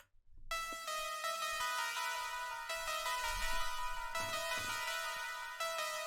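A bright, repetitive hyperpop synth lead loops a short melodic phrase over and over, loud and upfront with dense harmonics, alone without any voice.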